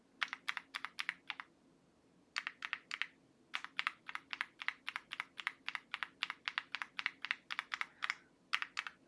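Keyboard with lubed and filmed Tangerine linear switches being typed on, with crisp, quiet keystrokes in quick clusters separated by short pauses and no other sound around them.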